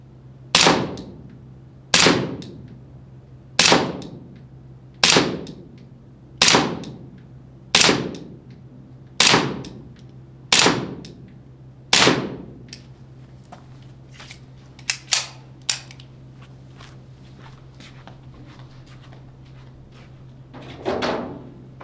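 A GBLS M1911A1 gas blowback pistol fires nine evenly spaced sharp shots at 7 m, each a crisp snap with a short decay over a steady low hum, followed by a few faint clicks and one softer knock.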